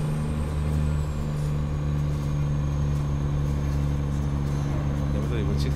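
A DINA 800 truck's engine brake on a mountain road, a steady, loud droning rumble with strong low harmonics held throughout, with someone talking over it.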